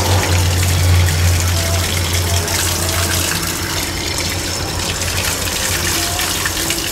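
Water pours steadily from a roadside spring fountain fed from up the hill in Bosnia, a continuous loud gushing and splashing that fills the whole clip, with a low hum underneath.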